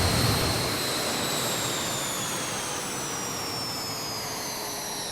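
Jet engines winding down in a video game aircraft after shutdown, a steady broadband roar with high whining tones that slowly fall in pitch while the noise holds fairly even and close.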